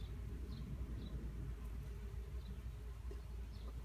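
Solitary bees buzz around a south-facing nesting site in the Geer valley, a faint low steady hum with a few brief higher buzzes as individual bees pass, no voices.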